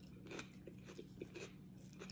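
Someone chews a big bite of creamy buffalo chicken dip made with blue cheese crumbles, giving soft, close, faintly crunchy mouth sounds in a few irregular bursts over low background hum.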